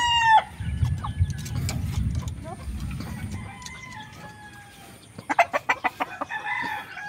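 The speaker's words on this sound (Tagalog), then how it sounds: "hello chicken" Chickens clucking with a rooster crowing on a farm, layered bird calls close by over a low rumble of background noise, with a burst of sharp repeated clucks near the end.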